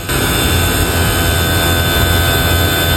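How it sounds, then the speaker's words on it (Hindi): A 4 ton Greenair air conditioner compressor running at maximum RPM, a loud, dense, continuous roar with a steady low hum and broadband whooshing throughout, heard close up with no talk. "आप कंप्रेसर की आवाज़ से भी अंदाज़ा कर सकते हैं कि कंप्रेसर अभी अपनी मैक्सिमम आरपीएम पे चल रहा है"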